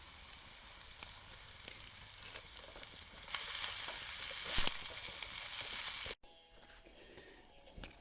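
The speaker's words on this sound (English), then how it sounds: "There they sizzle." Food sizzles and crackles steadily in a frying pan over a cabin stove, a busy hiss that swells louder midway before cutting abruptly to a quieter background.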